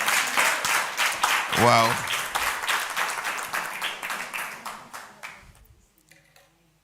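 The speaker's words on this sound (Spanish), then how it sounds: "Dale un aplauso al Señor por eso." A church congregation applauds during a sermon, brisk clapping that fades out toward the end, with a single voice exclaiming briefly partway through.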